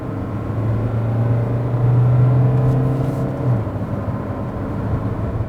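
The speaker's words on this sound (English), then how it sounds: "Let's put the car into sports and drive." A SsangYong Korando with a 1.6 litre diesel engine, set to sport mode, pulls away with a steady low engine drone that rises briefly in pitch and then settles, heard from inside the cabin.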